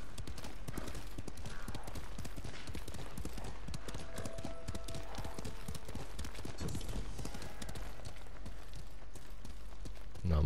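Horse hooves galloping in the Ghost of Tsushima video game, a steady rapid clip-clop running throughout at a constant loud level, with some game ambience underneath and a brief louder thump at the very end.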